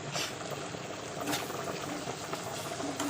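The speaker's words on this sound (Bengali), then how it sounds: "মশলাটা একটু কষা হচ্ছে ভালো ভালো করে" Ginger, garlic, chili, onion and tomato spice paste frying steadily for a tilapia curry, a dense continuous sizzle close by with a few brief scrape-like bursts, no voices.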